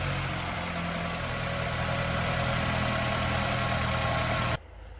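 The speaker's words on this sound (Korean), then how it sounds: "시동 걸어서 엔진 돌려봐요." A Renault Samsung QM5 2.5 gasoline engine idles with a steady, loud droning rumble that cuts off abruptly near the end, leaving quiet.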